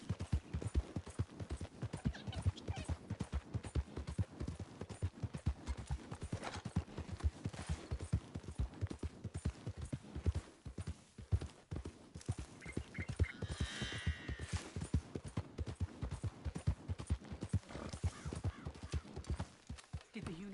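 Steady galloping hoofbeats from a horse in Red Dead Redemption 2, a continuous rapid clip-clop beating through the whole stretch, with a brief faint whinny midway and a few soft thuds near the end.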